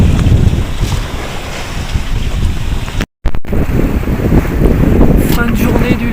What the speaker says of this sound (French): Et la mer, elle est pas très ordonnée aujourd'hui,